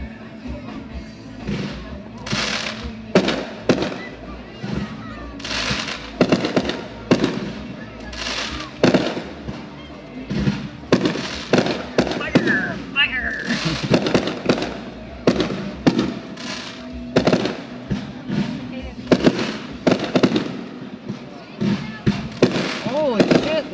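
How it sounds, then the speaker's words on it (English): Fireworks burst repeatedly at a car show with a semi parade, sharp bangs and crackles coming in irregular volleys over about twenty seconds, loud and echoing outdoors, with voices nearby. "You can see some of the ash on my windshield from all the fireworks."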